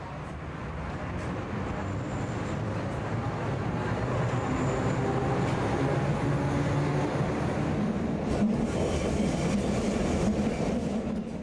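A historic Type A2 small-profile Berlin U-Bahn train rolls steadily in normal passenger service, a continuous loud rumble of wheels and carriages with a few rail clicks and rattles, heard alone without voices.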